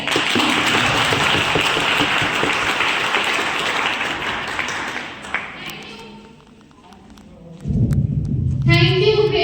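Applause follows a Republic Day speech at a teachers training college: a crowd claps steadily for several seconds, fades out, and then voices talk.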